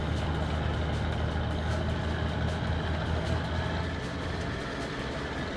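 Heavily loaded Ford 1210 truck hauling timber up a steep grade in Euro Truck Simulator, its engine droning low and steady throughout with a dense, continuous rumble and no pauses.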